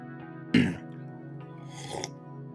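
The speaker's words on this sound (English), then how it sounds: "let me take a quick little cough and a sip of tea here" A man clears his throat with one loud, close cough, then makes a quieter second throat-clearing rumble a moment later, all against a quiet background.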